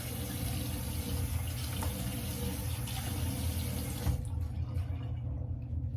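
A tap runs steadily into a bathroom sink during underarm rinsing, a close continuous splashing flow that cuts off near the end.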